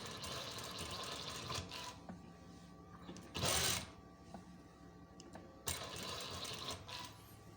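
A sewing machine stitches a curve around a shoe with short bursts of whirring, broken by pauses while the foot is lifted and set down. Quiet clicks fall between the runs.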